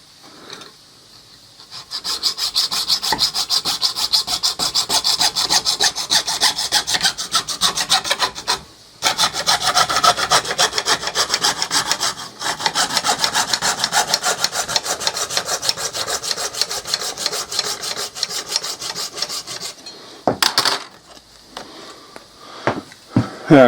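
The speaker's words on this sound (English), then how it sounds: "Go with a junior hacksaw for this." A junior hacksaw cuts through a koi pond skimmer part, giving steady, close rasping strokes for about twenty seconds, with a short pause partway through and a few scrapes at the end.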